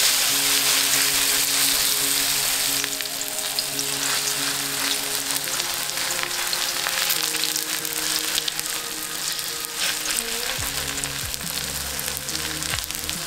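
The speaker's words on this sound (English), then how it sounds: "Heat some oil in a hot pan over high heat and scoop in some of the batter." Okonomiyaki batter frying in hot oil in a pan over high heat, a loud, steady crackling sizzle that runs throughout, with faint background music underneath.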